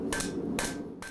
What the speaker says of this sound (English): Glen Johnshoy puts hammer to anvil in his small Missoula shop to make shoes for horses